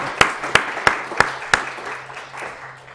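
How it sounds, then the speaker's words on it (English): Audience applause at a health policy event: five sharp, loud claps ring out close by over a softer wash of clapping that fades over three seconds. "please join me in giving her a round of applause"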